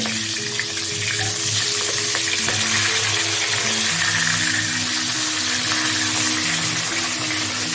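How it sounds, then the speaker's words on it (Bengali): Big fish heads frying in oil under a covered pan, a loud continuous sizzle peppered with crackling pops, close and steady from start to finish over faint background music, with no talk. "ভীষণ ফাটছে, মাছের মাথা তো ফাটে, বড় মাছের মাথা, ওই জন্য তো ফাটে"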